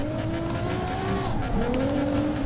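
In CarX Drift Racing Online, a drifting car's engine drones and shifts pitch with faint tire squeal, a continuous moderately loud whine without speech.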